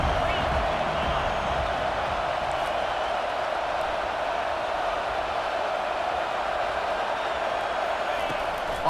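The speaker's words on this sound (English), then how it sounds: "how nice is it to have the home crowd going absolutely bananas?" A home crowd roars at a college football game between New Mexico and Oklahoma, a dense, steady wall of cheering and noise that holds loud and unbroken throughout.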